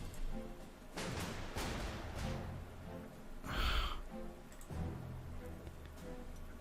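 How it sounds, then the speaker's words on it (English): Steady rain falls in the World War II strategy game Panzer Corps 2 during a Norway mission, a constant broadband hiss with a few louder bursts and thuds over the top. "Okay, it's raining again,"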